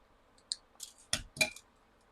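Jewelry wire snipped with cutters while making earrings: a few quiet, sharp metallic clicks and snips, close up in an otherwise quiet room, with two crisper cuts near the end.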